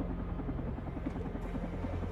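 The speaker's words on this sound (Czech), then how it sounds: "Slyším helikoptér." A helicopter in the video game Carrion, a steady, rapid rotor thump with a low droning hum, held at an even, moderate loudness throughout the short clip with no one talking.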